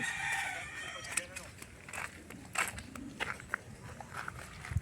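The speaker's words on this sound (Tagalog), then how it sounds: "Mga manok na maliliit ito" Small chickens cluck and a rooster crows nearby in Davao, with scattered footsteps and some faint talking in the background.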